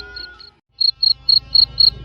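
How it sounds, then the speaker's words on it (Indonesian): Crickets chirping outside a yard at night, a close, clear run of short evenly spaced high trills following a brief pause, with no other sound around them. "Suara jangkrik di luar halaman mengiringi tidur mereka di malam yang semakin senyap."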